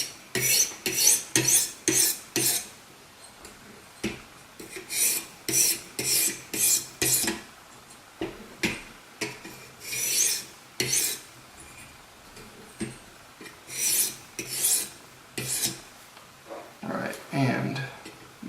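Steel knife blade, CTS-XHP, stropped on a 400-grit diamond sharpening plate: a steady series of short, rhythmic scraping strokes in quick bursts, close and crisp, with brief pauses between sets.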